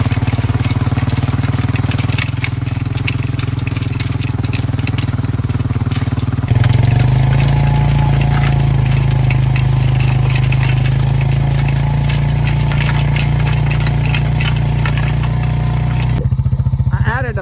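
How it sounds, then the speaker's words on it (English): An ATV engine running steadily while pulling a Garvee 4' x 5' drag across a seeded fall food plot for deer, loud close droning hum that rises in pitch midway and drops off near the end. "we're going to drag it once again using the ATV drag here by Garvee products"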